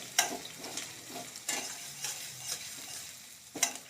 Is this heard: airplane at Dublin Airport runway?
no